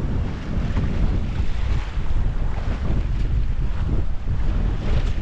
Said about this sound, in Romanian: De unde e vântul ăsta? Că e și vânt?